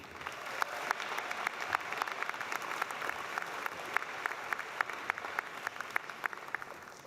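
An audience at a university business school commencement claps steadily for several seconds, a dense, even applause from a sizable crowd with no voices standing out.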